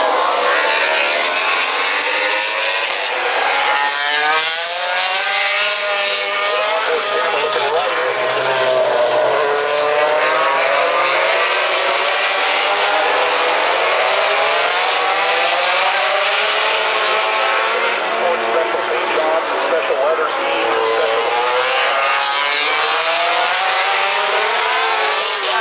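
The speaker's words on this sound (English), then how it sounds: "We're looking at the riders circling around the track right now." Racing motorcycles circle a race track, their engines producing a continuous high-pitched drone that swells and fades as the riders pass, with faint commentary underneath.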